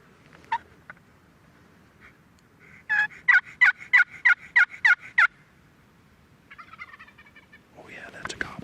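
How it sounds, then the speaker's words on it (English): A wild turkey gobbles far off in open country, a rapid burst of eight or so rattling notes standing out clearly against a quiet outdoor background, with a few faint bird calls before and after. "Oh yeah, that's a gobble."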